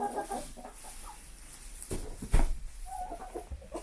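Backyard chickens cluck and murmur in soft, irregular bursts, close by, with a light bump and faint ambient noise in between.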